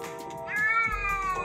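An overweight cat on a treadmill lets out a single drawn-out meow, close and fairly loud, with the belt's low rumble rising underneath partway through.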